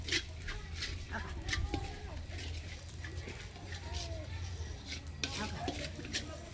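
Sesame and poppy seeds are dry-roasted in a pan and stirred quickly, making faint scraping and light crackling taps throughout, with occasional clinks of the spoon against the pan.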